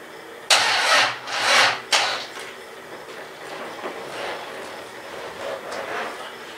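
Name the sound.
Triumph car engine cranking on a weak battery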